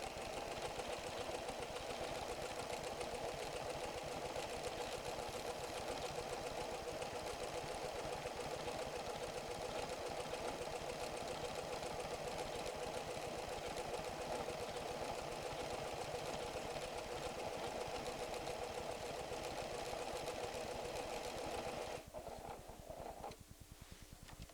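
A PFAFF creative 7550 sewing machine stitches a monogram, its rapid steady needle chatter running on evenly for over twenty seconds at moderate closeness before easing off at the end.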